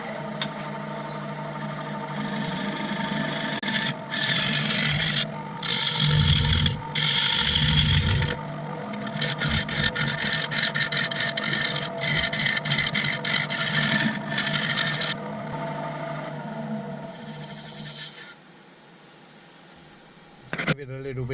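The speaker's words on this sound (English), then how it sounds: "Let's do a bit of flattening, shaping a bottom and putting a mortise and a foot." A lathe turns a Sapele wood shallow bowl as its bottom is flattened and shaped, giving a steady motor hum under loud, rasping bursts of tool cutting, with pauses and a voice speaking over it.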